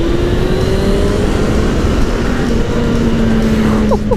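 Suzuki Bandit 600 motorcycle engine on a night ride, a steady loud drone with a rising then settling engine tone, wind rush throughout, close and continuous.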